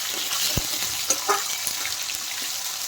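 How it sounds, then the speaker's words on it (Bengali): Potatoes with cumin and bay leaf sizzle in a hot pan, a steady hiss with a few scrapes and taps of a spatula, close by and with no voices. "আলু ভাজা হতে থাক"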